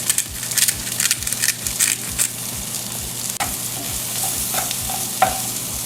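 Mushrooms seasoned with salt and pepper fry in a pan for truffle mac and cheese, with a steady sizzle under repeated scraping and stirring strokes and an occasional sharp clink of utensil against the pan.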